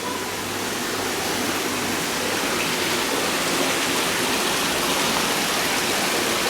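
Well water is pumped into fish tanks, and the steady, dense rushing of pouring water fills the whole stretch at an even, loud level, with no voices over it.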